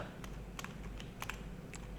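Computer keyboard keys being pressed while playing Minecraft, heard as a few scattered, sharp clicks over a quiet, hissy room background, fairly faint and not fast typing.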